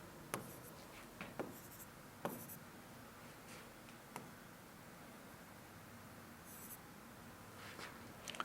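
Pen drawing a die on paper during a reasoning lesson: faint scratchy strokes and small taps scattered across a quiet background, close and soft, with no talk.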